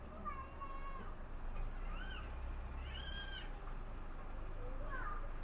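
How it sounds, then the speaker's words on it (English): A bird gives several drawn-out, nasal squawks spaced a second or so apart, moderately distant over a quiet rumbling background. "I actually think that's a bird."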